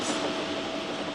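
Steam engine Toby rolls along railway tracks with a steady, dense rumble and hiss that holds at an even level throughout, with no voices.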